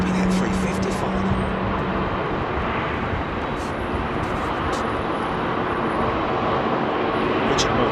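An Airbus A350 airliner on final approach at London Heathrow gives a steady, loud broadband jet roar that fills the whole stretch without letting up, with faint voices underneath.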